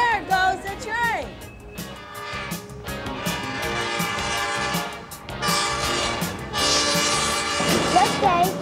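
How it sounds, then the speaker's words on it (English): A train rolling past with its horn blaring in long sustained tones, heavy rumble and clatter underneath, loud and close throughout, with musical accompaniment mixed in. "There goes a train."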